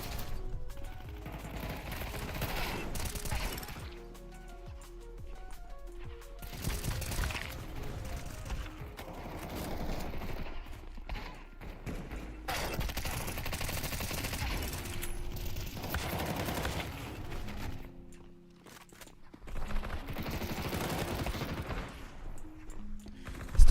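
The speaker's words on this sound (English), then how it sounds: "can't get this gun to get the recoil going" Dense Counter-Strike gunfire crackles throughout, bursts of automatic rifle fire with mechanical clicks between volleys, loud and close, no talking.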